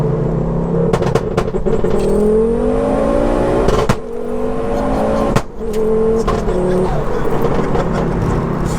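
A 530 bhp big-turbo five-cylinder engine in a four-wheel-drive-swapped Ford Focus ST revs hard and steadily, its rising and falling tone sweeping up several times with a brief lift off partway through, loud and close.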